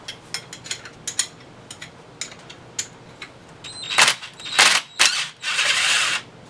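Ratchet wrench backing out 1/2 inch bolts from a T150 transmission cover on a Jeep CJ7 during a rebuild, starting as soft scattered clicks and building to several louder bursts of rapid ratcheting, close by with no talk.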